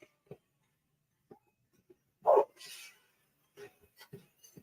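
Dog giving a few short, faint barks and yips indoors, spaced apart against near silence.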